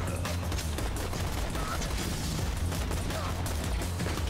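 Gunfire from the Borderlands 2 video game during co-op play: a dense, continuous barrage of shots and booms that fills the whole stretch, with players' voices faintly mixed in.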